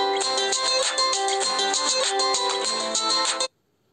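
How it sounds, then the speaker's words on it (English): A mobile phone ringtone plays a loud, steady electronic melody for about three and a half seconds, then cuts off abruptly into silence. "my phone is ringing"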